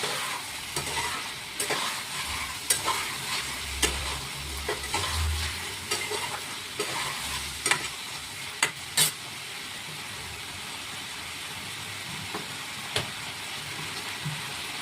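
Masala with Kashmiri chili powder sizzles in a pan and is stirred. A steady frying hiss runs throughout, with repeated scraping strokes and occasional sharp clicks of the spoon, close up and with no talking.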